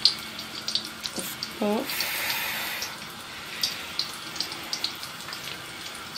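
Tap water running into a sink for handwashing, a steady splashing hiss with scattered drips and knocks, and a brief spoken voice early on.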